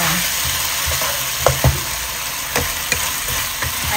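Pork liver fries in a pan with a loud, steady sizzle, broken by occasional clinks and scrapes of stirring, and no talking.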